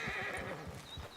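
A horse in the video game Red Dead Redemption 2 whinnies loudly over steady clip-clopping hooves, close by and brief, with no talk.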